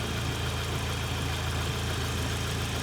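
Cold Audi TTS fitted with an APR Stage 3 setup and a newly installed bigger turbo, idling steadily up close with an even, throbbing low rumble and no talking.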